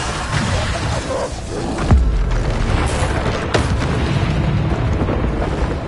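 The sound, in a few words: Bombarda blasting spell explosion in Hogwarts video game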